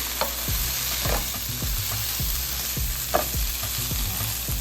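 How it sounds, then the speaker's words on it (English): Chorizo and potatoes frying in a pan, a steady close sizzle broken by repeated scraping stirs and soft thuds of the spoon, roughly one stroke per second. "Stir that up. Once we get it stirred all in, we're gonna kind of try to leave it alone and let it brown a little bit."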